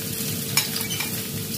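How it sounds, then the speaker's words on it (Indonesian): Garlic, shallots, ginger and red chili sautéing for a spicy turmeric catfish soup, a brief close sizzle with one sharp stirring clink partway through. "Oke, tumis dia sehingga dia naik bau dahulu"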